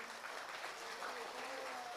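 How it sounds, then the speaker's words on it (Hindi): Steady, fairly faint applause from an audience at a Hindi poetry recital, a continuous wash of many hands clapping at a distance. "कविता तो मैंने अच्छी सुनाई, लेकिन फिर भी आपने तालियां थोड़ी सी कम बजाई"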